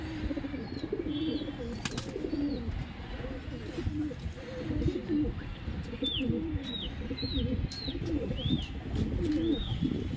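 Soft, repeated pigeon cooing rolls on steadily close by on a rooftop, with occasional higher chirps and a faint voice murmuring in the background.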